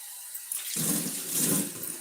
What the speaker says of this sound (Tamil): மல்லித்தலை கழுவிடுவோம்